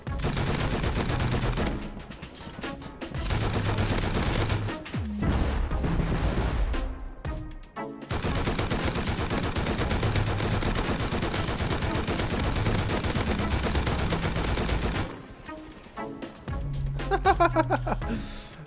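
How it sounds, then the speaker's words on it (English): Attack helicopter in the video game Rust firing its machine gun, long sustained bursts of rapid gunfire broken by short pauses, loud and dense, with a player speaking briefly between volleys. "Hello, heli. We gonna play?"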